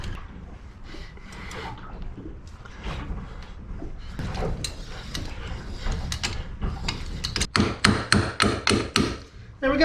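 Vice grips clamped on the hex end of a metric gear puller ratchet and tap against metal in a boat-restoration workshop, close, with irregular knocks that quicken into a rhythmic series of clicks near the end.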